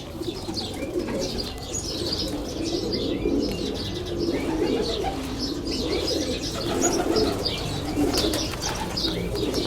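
Pigeons coo steadily inside an enclosed pigeon tower, a dense overlapping chorus of low throaty coos with scattered chirps and faint wing flutters, continuous and close throughout.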